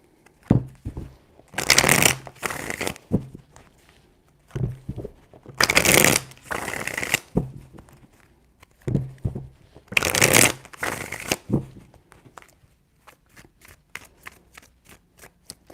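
A deck of tarot cards is shuffled by hand three times, each a loud, close riffle of rapid flutters lasting a couple of seconds, with soft taps and handling in between.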